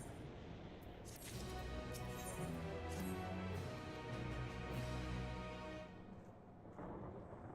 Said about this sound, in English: Where my eardrums can enjoy hearing the beautiful sound of thunder claps.